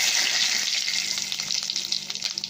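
Cumin, bay leaves and dried red chillies frying in hot oil, a close, bright sizzle that starts strong and settles into crackling pops while being stirred.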